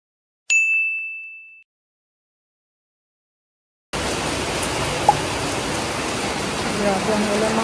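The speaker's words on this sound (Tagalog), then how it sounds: "Grabe ang ulan mga amazing people." A single bright chime rings and fades, then after a short silence heavy rain starts abruptly and keeps up a steady, close, hissing roar to the end.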